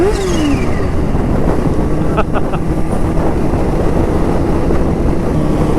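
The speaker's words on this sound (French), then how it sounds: "T'entends le bruit du compresseur?" A supercharged Kawasaki Ninja H2 motorcycle roars at speed close to the microphone, with engine and supercharger noise under heavy wind rush and a brief falling whine near the start.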